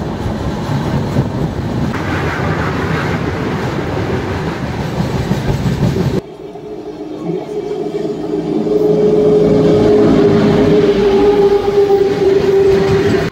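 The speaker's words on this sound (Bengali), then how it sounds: "এই মুহূর্তে আমাদের ট্রেন চলে আসলো কোলাঘাট, যদিও এখানে দাঁড়াবে না।" Tamralipta Express on the Howrah to Digha run passing through Kolaghat without stopping, a loud steady rumble of wheels and carriages with a clickety-clack rhythm, briefly dropping then swelling again with a high screech.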